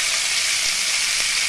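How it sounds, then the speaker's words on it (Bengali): Mixed vegetables for Bengali sukto fry together in one pan, giving a steady, loud broadband sizzle that holds evenly throughout with no talk. "কিন্তু আমি এখানে একসাথেই ভেজে নিচ্ছি"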